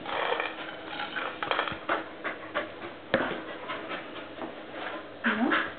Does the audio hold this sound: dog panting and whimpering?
yes